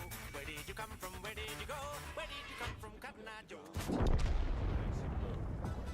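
Someone talks, then a single deep artillery shot in World of Tanks booms loudly and leaves a broad rumbling tail.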